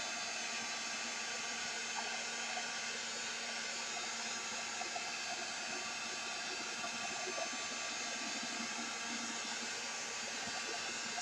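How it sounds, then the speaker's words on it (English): A steady, loud whoosh of a heat gun blowing air runs unbroken throughout, a constant hissing roar with no pauses. "I'm going to turn on my heat gun again and be noisy"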